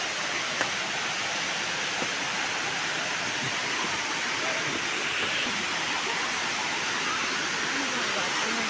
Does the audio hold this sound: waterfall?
yes